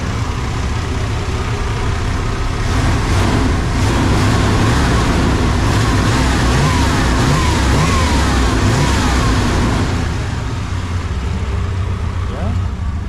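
A car engine revs after a new distributor install, a loud rough sustained roar with some rise and fall in pitch, a slight miss, and road-like rumble throughout.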